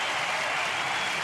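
Crowd in the stands at a US Open tennis doubles final applauding, a broad even wash of clapping with some cheering, steady and fairly distant, no voices on top.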